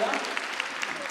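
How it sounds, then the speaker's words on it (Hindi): Applause greets a guest at a Hindu religious gathering honouring saints, a brief steady patter of many hands clapping at moderate level with no one speaking over it. "जोरदार तालियां।"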